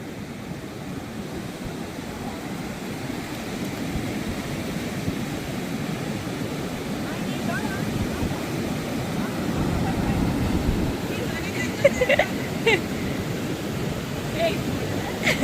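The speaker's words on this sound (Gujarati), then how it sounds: "શિવ આનો હવે મોજા જાવ રમો મસ્ત, કઈ ન થાય" Ocean waves on a beach roll in as a continuous broadband wash with gradual surges, a few louder splashes near the end, and faint background voices.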